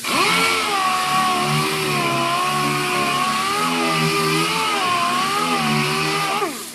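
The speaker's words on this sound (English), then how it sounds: "I like a DA at this point. I've got 80 grit on here." Dual-action sander fitted with 80 grit running over Bondo body filler, a loud steady motor whine with slight pitch wavers as pressure shifts, close and continuous throughout without speech.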